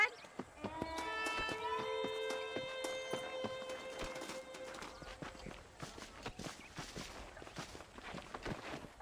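Horse hooves clip-clopping in Red Dead Redemption, a steady rhythmic run of hoofbeats under a game music chime and faint background voices, moderately quiet.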